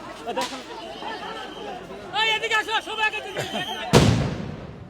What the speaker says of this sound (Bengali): চতুর্দিকে মুহুর মুহুর সাউন্ড গ্রেনেড নিক্ষেপ করা হচ্ছে